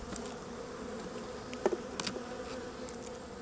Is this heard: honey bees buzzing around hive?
yes